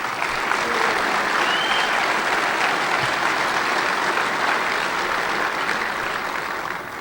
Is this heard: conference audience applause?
yes